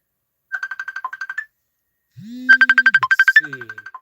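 A mobile phone plays an incoming-call ringtone as a rapid run of pulsed beeps, loud and close. It pauses briefly, then returns with a longer, louder burst while a low sliding tone sounds beneath it.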